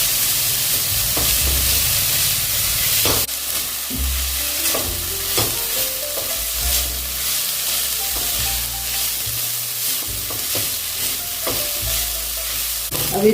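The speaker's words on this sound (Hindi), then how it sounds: "इसको सुनहरा होने तक भून लेंगे" Onions frying in hot oil in a pan while a spoon stirs them until golden, for a dhaba-style methi paneer veg biryani: a steady close sizzle under repeated scraping and clinking of the utensil.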